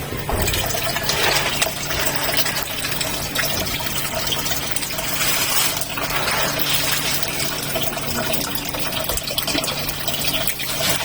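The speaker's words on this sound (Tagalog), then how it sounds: "Hugasan natin ng maigi." Freshly caught paros fish being washed in water at sea in the West Philippine Sea, a continuous loud rushing, splashing gush of water running throughout without a break.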